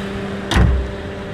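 A Suzuki Ertiga GX with manual transmission idles with a smooth, steady low hum close by, broken once midway by a brief broadband thump before the even drone carries on, with no voices present.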